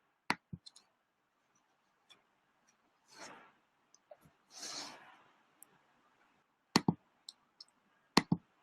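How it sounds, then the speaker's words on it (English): Computer mouse clicks sound in sparse, sharp, close ticks, some in quick pairs, with faint breathy noises in between in an otherwise quiet room. "you just type in your subject and your message and hit send message"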